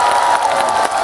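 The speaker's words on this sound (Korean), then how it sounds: "여러분들께서 박수로 한번 그 비트를 만들어 주시면 좋을 것 같아요" Crowd at an apple festival concert in Cheongsong clapping along in rhythm to a song, a loud, dense wash of clapping with cheering voices mixed through, continuous and close.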